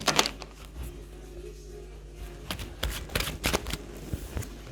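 Tarot cards being shuffled and drawn during a reading, heard as irregular papery riffles and flicks at close range with no talk, stronger bursts coming toward the end.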